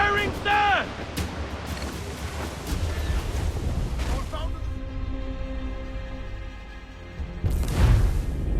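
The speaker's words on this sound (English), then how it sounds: "They are firing, sir!" Ship cannon fire during a naval fight in Assassin's Creed IV Black Flag, heavy booms rolling under dialogue, music and sea ambience, with one big blast near the end.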